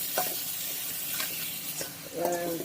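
Tempering spices sizzling in hot oil for a dried fish curry, a soft continuous hiss with faint stirring scrapes and small clicks, close by and without talk.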